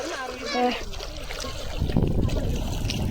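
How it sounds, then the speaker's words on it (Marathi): Irrigation water flows and splashes into a sugarcane field outdoors, a steady close trickle and gush that swells and holds through the second half, with a voice speaking over the start. "तर पाणी सोडलेले ऊसाला"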